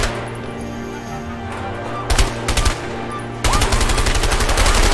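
Gunfire in the video game A Way Out, heard in bursts: a brief volley near the two-second mark, then a sustained, loud stretch of rapid shots over a steady game background through the final seconds.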